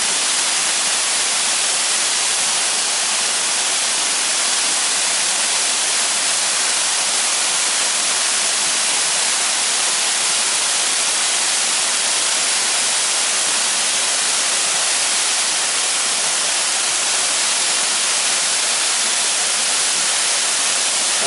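Steady, dense rushing of a waterfall at Khao Kho heard up close during abseiling, a loud unbroken roar of falling water with no pauses or speech.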